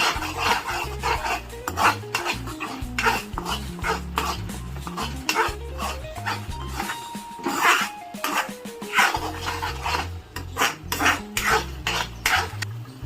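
A spoon stirs spices in a pan for Punjabi-style rajma, with repeated scraping and rasping strokes in a steady rhythm, up close and loud over background music.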